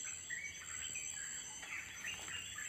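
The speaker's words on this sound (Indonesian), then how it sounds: "Coba dengarkan suara burungnya guys. Kicauan burungnya begitu sadu." Birds in a Sumatran forest in Padang Pariaman, with repeated bright chirps and calls over a steady high insect-like trill, faint and somewhat distant.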